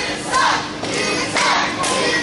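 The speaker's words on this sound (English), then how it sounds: "Now the crowd getting behind it." A wrestling crowd in an arena cheering and roaring loudly in steady swells, a dense wash of voices with surges of excitement.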